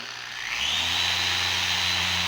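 A rotary buffer spins up to a cutting speed of 6,000 RPM on car paint, its whine rising quickly and then holding as a loud, steady, close hum and hiss.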